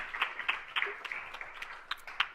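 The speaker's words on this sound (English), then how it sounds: "Let's give him another round of applause." Scattered, fairly faint applause from a small audience at a teen distracted-driving prevention summit, a few distinct claps standing out from a light patter.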